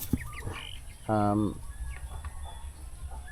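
A short burst of two-month-old turkey poult calls, including Royal Palm turkeys, rises over faint background chatter and rustling, with a few scattered peeps before and after, on a farm.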